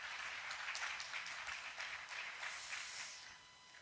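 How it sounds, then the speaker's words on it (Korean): Audience applause at a church prayer gathering and political seminar, a steady wash of many hands clapping at moderate distance that fades slightly toward the end, with no talking over it. "우리 한번 박수 한번 쳐볼까요?"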